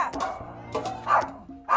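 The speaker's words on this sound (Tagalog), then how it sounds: "Alam nyo, ang mga to, tinatahulan yung mga pusa." Dogs bark at cats: four or five sharp, close barks in quick succession, with a short whimper-like yip between them.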